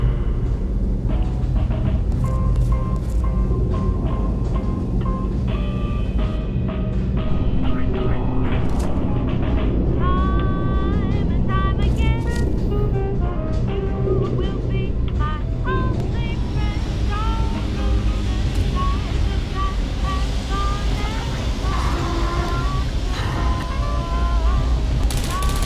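Train ride in Portal Stories: Mel, a steady mechanical rumble and rushing wind-like noise with scattered metallic clanks and tonal whines, continuous throughout.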